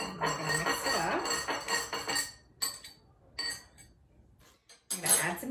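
Purple liquid stirred and mixed inside a bottle for a space sensory craft, giving a busy run of clinks and rattles for about two seconds, then sparse knocks and shakes, and a final burst of clattering near the end.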